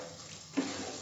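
Water is poured into a pan of spicy tomato crab masala: a short watery splash and trickle, close and brief, with no voices.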